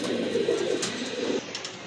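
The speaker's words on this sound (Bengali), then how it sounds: "মাশাল্লাহ আরেক জোড়া কবুতর দেখতে পাচ্ছেন" Pigeons coo softly in low, burbling phrases over a faint background hum, a brief moment.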